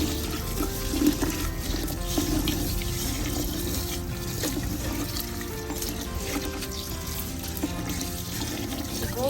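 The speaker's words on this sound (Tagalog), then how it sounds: "Lagyan natin ng tubig." Water is poured into a container of rice measured out in pints, a continuous close splashing and gurgling rush that holds steady throughout with faint clinks and rustles.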